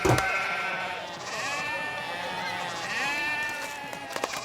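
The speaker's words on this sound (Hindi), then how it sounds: "ये बकरा बोलता है?" A goat bleats several times up close, its drawn-out, wavering cries following one another, with faint voices in the background.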